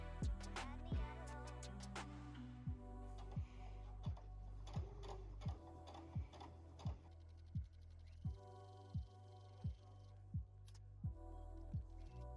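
A sewing machine stitches fabric for a custom bucket hat in short, rhythmic bursts, with a sharp needle-strike pattern repeating at a steady pace, quiet and close with no voices.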